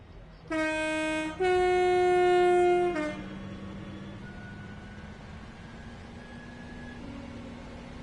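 A Class 323 electric train in Centro livery in the Train Sim World 4 game sounds its horn in two loud tonal blasts, followed by the steady hum and whine of the running train.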